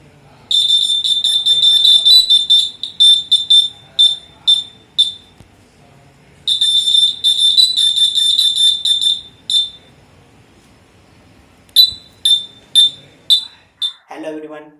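Shrill, high-pitched electronic beeping from a student-built vibration-sensing alarm model at a school exhibition, sounding in rapid repeated bursts with short gaps, loud and close.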